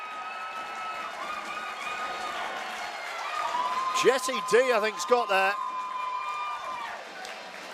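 Rugby league crowd at a York Knights match cheers and whoops in a swelling roar, mid-distance, rising under a commentator's voice and then fading.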